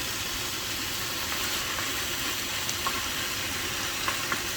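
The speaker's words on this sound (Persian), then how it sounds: "اجازه میدیم یه مقدار گوشتمون با پیاز سرخ بشه" Meat and onions frying together in a pot, giving an even, constant hiss of sizzling with a few faint pops and clicks, fairly close and with no one talking.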